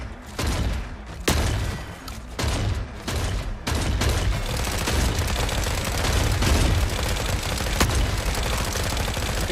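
Gunfire in an online multiplayer shooter game: dense, loud volleys of shots and booms that keep up for nearly ten seconds, with little talk over them.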